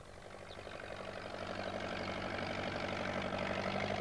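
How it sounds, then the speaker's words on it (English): Peter Fogg's tractor engine idles with a low, steady chugging that grows slightly louder over a few seconds, close by and with no talking. "Peter Fogg came along on his tractor"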